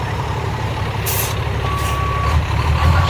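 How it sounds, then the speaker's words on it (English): Big rig truck reversing with a rough-sounding differential, a steady loud diesel rumble under a thin reversing beep and short hisses of air brakes, close by. "Looks like it'll go in reverse."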